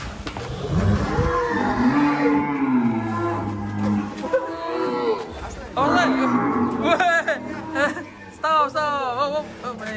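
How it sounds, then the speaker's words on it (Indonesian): A sacrificial cow, the president's qurban animal, is unloaded at a farm in Tegal and gives several loud, drawn-out moos up close, with people calling and talking around it. "Sapi kurban presiden."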